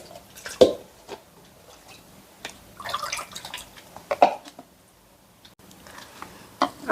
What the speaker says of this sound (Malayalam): ആ വെള്ളം ഇങ്ങനെ ഇളക്കിയതിന് ശേഷം ഞാൻ കോരി മാറ്റും